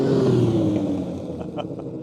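Honda CBX1000Z motorcycle with a 6-in-6 exhaust, its engine loud and close, holding a smooth, continuous tone that slowly drops in pitch as the revs settle.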